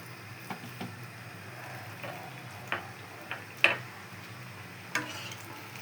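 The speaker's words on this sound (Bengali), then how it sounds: "এই দেখেন রসুন আর কাঁচামরিচেরটা ভাজা হচ্ছে।" Garlic and green chilli fry in a pan with a low, steady sizzle, punctuated by a handful of sharp ticks and taps from stirring.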